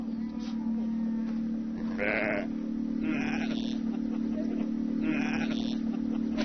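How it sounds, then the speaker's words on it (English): Sheep bleating across vast green countryside in Xinjiang, several drawn-out calls spaced a second or so apart at moderate distance over a steady low hum. "looking at this vast green landscape and then these sheep just dot it"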